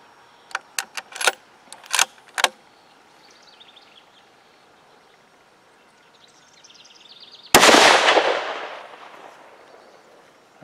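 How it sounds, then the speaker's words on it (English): A single sharp rifle shot fired while zeroing an ATN Thor 4 thermal scope cracks loudly and then decays in a rolling outdoor echo, preceded by a few faint metallic clicks and clinks of handling. "We're going to shoot one and see what we got."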